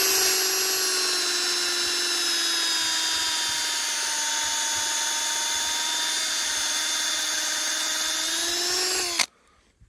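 A power drill drives a screw-in bolt step into a tree, a loud steady high whine with slowly shifting pitch for about nine seconds before stopping abruptly with a brief clunk.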